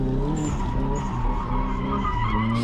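A drifting car with a loose front end slides with sustained tire skidding over a steady engine drone, loud and continuous throughout.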